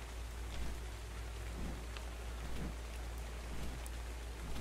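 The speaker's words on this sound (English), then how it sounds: "Now I'm sad it's always raining because we can't see anything." Steady rain falls in the video game Ark: Valhalla, a dense, even hiss with scattered droplet ticks and a low constant rumble beneath, with no voices.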